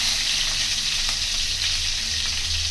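Green chillies frying in hot oil for tomato gojju, a continuous dense sizzle and crackle, close and steady throughout with no talking.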